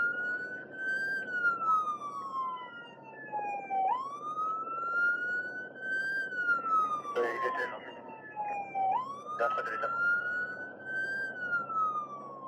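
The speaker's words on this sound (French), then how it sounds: "les pompiers vont faire résonner cette sirène assourdissante" A deafening fire brigade siren wails in a repeating rise-and-fall cycle, loud and close, steady across the whole stretch during a summer of wildfires.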